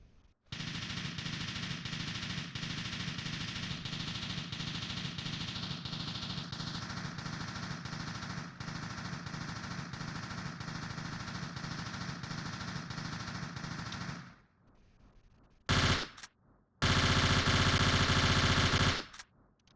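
Sustained rapid rifle gunfire in Tomb Raider Angel of Darkness, a dense unbroken stream of shots lasting about fourteen seconds, then a brief pause, a single short burst and a final loud volley.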